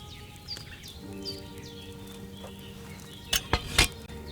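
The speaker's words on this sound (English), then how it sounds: "Hear that bubbling? It's boiling." A cauldron boils in the video game Kingdom Come: Deliverance II: soft bubbling and gentle clinks over a low steady hum, ending in a few sharp knocking sounds close by.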